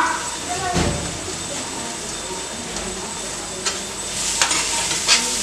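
Chopped carrots go into onions frying in a pan and are stirred, giving a steady sizzle with a few louder clatters and scrapes from the spoon.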